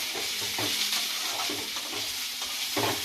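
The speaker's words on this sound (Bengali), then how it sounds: "এবার বাদামটা দিয়ে একটু নেড়ে ছেড়ে নেব" Peanuts fry in a pan with a constant, close, bright sizzle, broken by regular scraping strokes of a spoon stirring them.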